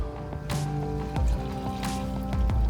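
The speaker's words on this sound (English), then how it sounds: "I've got trans oil dripping on my arm" Transmission oil from a Cummins dually truck drains in a steady splattering trickle with irregular drips, heard close and fairly loud over a low background hum.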